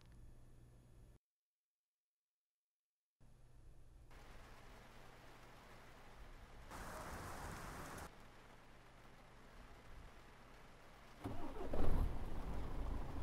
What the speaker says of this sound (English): And of course, it's raining, right?